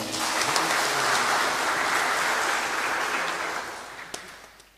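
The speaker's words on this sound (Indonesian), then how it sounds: "Tepuk tangan untuk mereka semua." Congregation at a Catholic Mass clapping for the liturgy helpers and choir, a sustained wash of applause in a large church that gradually fades toward the end.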